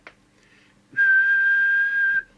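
A person whistles a single steady held note into the microphone of a UK LCL Economy CB radio (27/81) during transmitter alignment. A short click comes first, then the clear, loud, even tone lasts about a second.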